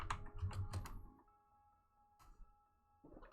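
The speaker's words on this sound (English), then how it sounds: "I'm just typing up a message to Stefan." Computer keyboard keys tapped in short clustered bursts during an online tabletop role-playing session, the clicks close and fairly clear before a quiet pause and another brief flurry.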